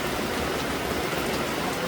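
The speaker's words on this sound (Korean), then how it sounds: "무슨 비가 들어붙네." Steady rain falling on a gravel farmyard in the countryside, a soft, even hiss of many small drops that stays constant for a brief stretch, with no voices.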